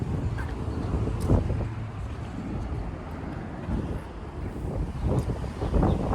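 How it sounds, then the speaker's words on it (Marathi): A Volkswagen Atlas Sport drives along, giving a low continuous road and engine rumble with wind buffeting across the microphone and no talking. "सो ही गाडी आहे माझी ॲटलस, सगळ्यांना ॲटलस स्पोर्ट."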